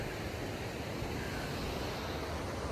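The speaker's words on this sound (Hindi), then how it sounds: "देखो बहता हुआ पानी कितना सुंदर लग रहा है ना" Water flowing beneath an iron bridge in the Barot valley hills, a steady broadband rush that holds evenly throughout with no voices over it.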